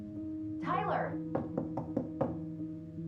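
Several knocks on a door in the game Tell Me Why, four or five sharp raps in quick succession, close and clear over a steady background music bed, following a brief swell of sound.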